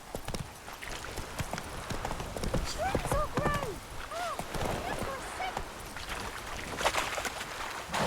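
Hoofbeats of the horse Roach galloping in The Witcher 3, a steady clip-clop rhythm throughout with game ambience and a few chirping bird calls.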